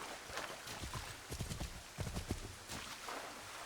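Horse hooves in Assassin's Creed III clop in uneven bursts at close range, mixed with some splashing or rustling game noise.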